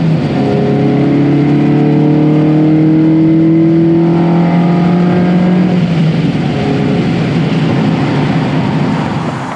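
A Ferrari 308 engine revs loudly and holds up high, its pitch climbing and sustaining up close before easing back down.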